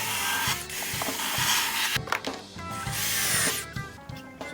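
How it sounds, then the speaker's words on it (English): Sanding marks out of a piece of furniture being refinished, a quiet, close scratchy rubbing in two longer passes broken by small knocks and clicks of handling, with no voices. "Might as well do this now so I can sand these marks out."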